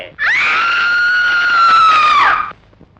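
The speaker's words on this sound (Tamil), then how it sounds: "உங்க பாட்டி ஏன் இப்படி அலறுகிறாள்?" A grandmother in a Tamil film scene lets out one loud, sustained high-pitched scream lasting about two seconds, which then stops abruptly.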